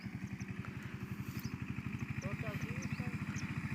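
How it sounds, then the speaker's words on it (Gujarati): A mini tractor's small engine chugs steadily with a fast, even putter while spraying pesticide in a farm field, close by and continuous, with faint chirps of birds in the background. "મિની ટ્રેક્ટરથી દવાનો રાઉન્ડ ચાલુ છે"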